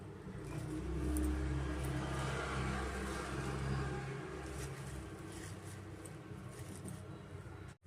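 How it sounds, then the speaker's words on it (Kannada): A mixer jar grinds garlic, ginger, green chilli and coriander masala with a steady motor whir that hums loudly at first, then eases and settles. The grinding stops abruptly at the very end. "ಹೀಗೆ ಜಾರ್ ತೊಗೊಂಡು ನಾವು ಇದು ಮಸಾಲೆ ರುಬ್ಕೊಳ್ಳೋಣ"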